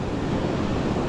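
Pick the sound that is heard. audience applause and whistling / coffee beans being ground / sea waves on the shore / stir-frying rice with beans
sea waves on the shore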